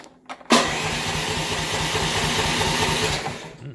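A small engine running with a little choke cranks briefly, then catches and starts, settling into a fast, steady mechanical chug that is close and moderately loud, no talking.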